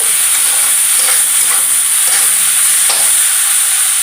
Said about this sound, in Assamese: আমাৰ ঢেকীয়া ভাজি প্ৰায় ৰেডি হৈ গ'ল